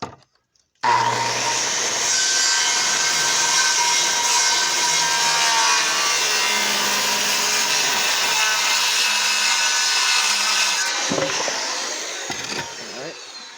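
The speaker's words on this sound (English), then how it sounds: "Or we're going to cut, a miter." A power saw cuts a 45-degree miter in a wooden board for a bookshelf, a steady loud whining drone lasting about ten seconds after a sudden start, then winding down with a couple of knocks near the end.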